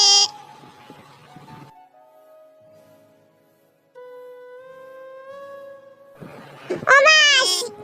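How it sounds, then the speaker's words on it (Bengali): A cartoon goat bleats, a wavering cry at the start, then a long held tone and a sharper rising bleat at the end, with quiet gaps between. "এই ছাগল নিয়ে আসছিস কেন?"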